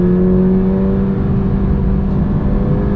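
A new Toyota GR86 Premium sports car on 18-inch wheels with Michelin Pilot Sport 4 tires runs on a track, its engine droning loud and steady under hard load from inside the cabin.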